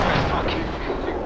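A 152 mm howitzer-gun M1937 (ML-20) firing in a Battlefield-style video game, one heavy booming report with a rumbling tail, loud and near.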